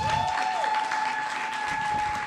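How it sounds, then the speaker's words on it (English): Applause fills a live session hall, dense steady clapping from an audience that holds level for a couple of seconds with a sustained tone ringing beneath it. "A resounding round of applause"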